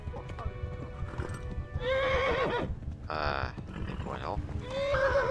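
In Kingdom Come: Deliverance, a horse whinnies loudly several times over a rhythmic clip-clop of hooves and rumbling motion, while a voice briefly speaks.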